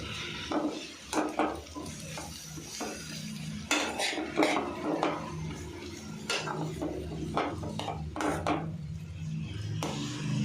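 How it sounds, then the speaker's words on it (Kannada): Chopped tomatoes tipped into a pan for a home-cooked dish, with scattered clattering of utensil against pan and a few sharp knocks, fairly close and without voices. "ಈ ಥರ ಚಿಕ್ಕ ಚಿಕ್ಕದಾಗಿ ಕಟ್ ಮಾಡ್ಕೊಂಡು ಹಾಕಬೇಕೀಗ."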